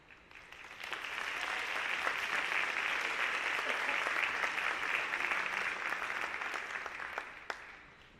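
Audience applause at a senior honor night, a dense sustained wash of clapping that swells in quickly, holds steady for several seconds and tapers off near the end.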